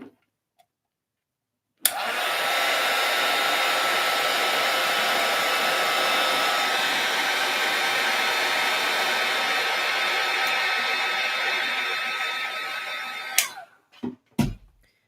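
A handheld heat tool blows hot air over art stones on a mixed media paper layout. It switches on sharply, holds a loud, steady whirring roar for about eleven seconds, then cuts off, followed by a few small clicks.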